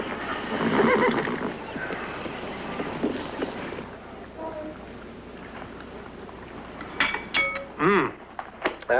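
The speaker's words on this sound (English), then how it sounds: "Come on, Nan. Giddy up. Giddy up. Giddy up" Horse neighing on a Western film soundtrack, a loud whinny rising over hoofbeats and background music, followed by later sharp whinnies and snorts near the end.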